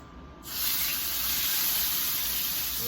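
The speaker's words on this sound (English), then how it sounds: "we're gonna take our smaller piece of salmon here, and we're gonna set that down in our skillet" A small piece of salmon hits a hot skillet and bursts into a loud, steady sizzle that holds close and unbroken after a brief quiet start.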